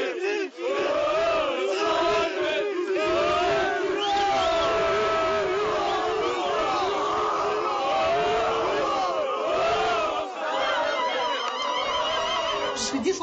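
A dense crowd of neighbours in Saïfi, Algeria cheers and chants for an Algerian national team footballer, a loud, continuous roar of many voices with whoops and shouts, close and sustained throughout.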